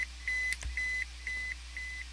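Electronic alarm beeps from GTA V's industrial area, five evenly spaced high steady tones, each about a quarter second long, sounding alone over a low hum.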